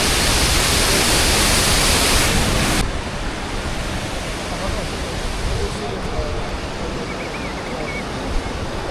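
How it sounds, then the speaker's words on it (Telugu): The Bhagirathi river rushes powerfully along the route to Kedarnath, giving a loud, dense, steady roar of whitewater. The sound is louder for the first few seconds and then settles to a slightly softer continuous rush. "భగీరథ రివర్. మనమైతే ఇంత పెద్ద ఫ్లో ఉంది."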